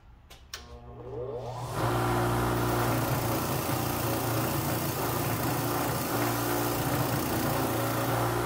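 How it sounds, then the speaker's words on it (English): A motorized wire wheel spins up and runs steadily against a golf wedge being refinished, a continuous loud whirring grind with a low hum, close and without talk. "So I'm switching over to a wire wheel and then a polishing wheel"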